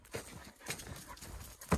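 A dog close by, panting and padding along on foot outdoors, with soft irregular steps and breathy huffs over a couple of seconds and a louder thump at the end.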